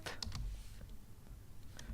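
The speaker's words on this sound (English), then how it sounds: "now press enter and typing 25th" Keystrokes on a computer keyboard while entering a date into a Word 2016 document, a few quiet clicks in a short burst over faint room noise.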